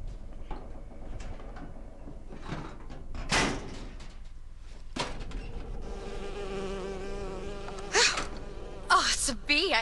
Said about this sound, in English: it's a bee. I hate these things